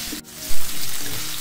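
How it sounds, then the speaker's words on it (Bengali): Chicken pieces fry in a wok over a medium flame, a loud, close, continuous sizzle with a brief dip and a burst of hissing spatter partway through, no voices. "চিকেনগুলোকে আমি মিডিয়াম ফ্লেমে 2 মিনিট মতো একটু ভেজে নিচ্ছি।"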